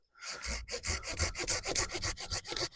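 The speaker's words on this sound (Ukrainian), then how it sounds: "Ну, давайте ми цього спиляємо." Hand saw rasping through a branch about 5–6 cm thick, a brisk run of rhythmic back-and-forth strokes, close and loud with no talk.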